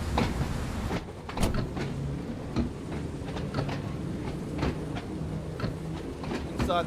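A train rolls along the Isle of Wight line in Train Sim World 2, a steady rumble with repeated clicks and clunks from wheels over rail joints, loud and continuous with no talking.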